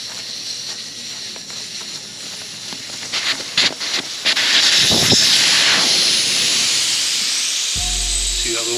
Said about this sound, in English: The quickest way to get the air back out of it so we can break the tire down is with a valve core remover.